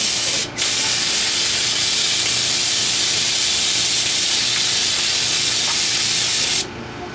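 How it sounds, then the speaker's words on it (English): A handheld spray gun hisses steadily as it sprays glaze onto a pottery piece on a banding wheel, one loud continuous burst lasting several seconds after a brief start. "And then just like a gun, you're going to take your pointer finger to use it to spray."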